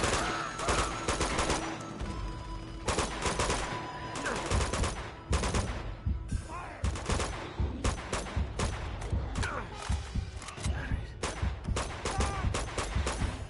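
Dense video game gunfire in Uncharted 2, rapid bursts and fusillades of shots, loud and continuous, with a voice occasionally heard under the shooting.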